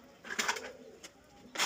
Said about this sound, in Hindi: और यंग कबूतर हैं भाई, लाल आँखों के कबूतर हैं पूरे